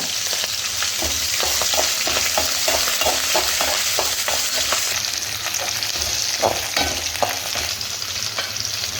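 Green chillies, curry leaves and onion being tempered in hot oil with chana dal for rava upma, a steady close sizzle with repeated spoon stirring taps throughout, no talking.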